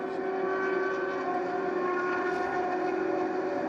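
A Prototype 1 race car with an expansion-chamber exhaust at the 2015 SCCA Runoffs sets up a loud, steady, buzzing engine drone with strong tonal harmonics. It holds unbroken throughout, with no voices over it.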